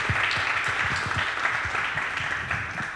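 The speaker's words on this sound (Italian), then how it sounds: "al professore Diego Fusaro, chiederei un applauso visto che è il nostro ospite." Audience applause for a guest at an Italian book presentation during a local festival, a steady wash of clapping with distinct individual claps up close, no talking.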